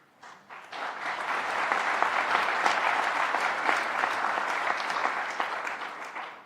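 Loud, sustained applause from a large audience in a United Nations hall, a dense wash of many clapping hands that swells quickly and holds steady before fading at the end.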